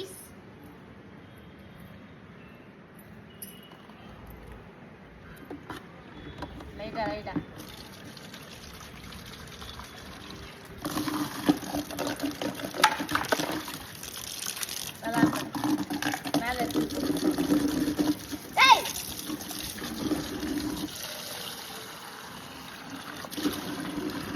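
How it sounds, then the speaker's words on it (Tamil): Water trickles and pours intermittently into a pan of frying mutton lung, quiet at first and growing louder, with people talking in the background. "கொஞ்சம் தண்ணி ஆட் பண்ணுமாம்மா"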